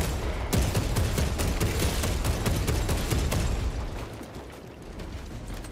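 Heavy gunfire in Warhammer 40,000: Space Marine 2, a loud continuous fusillade of rapid shots and bursts with booming low rumble, easing slightly in the final seconds.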